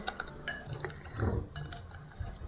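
Amla stirred with powdered sugar in a bowl, a spoon scraping and clinking softly against the sides in short, uneven strokes, close and quiet.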